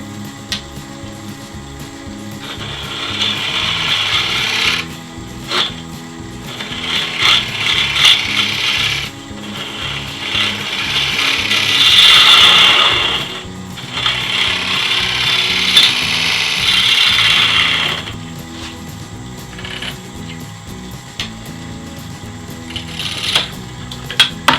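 Wood lathe spinning near 1000 RPM while a bowl gouge takes light cuts on a pendant blank held by double-sided tape, a continuous whirring hum with scraping swells, close and loud, no voices.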